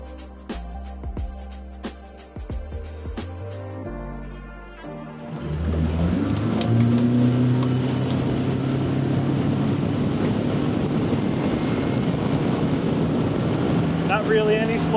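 A boat driven by a Mercury Pro XS 115 outboard accelerates to full speed, its engine note rising from a few knocks and revs into a loud, steady, sustained drone with rushing water and wind noise.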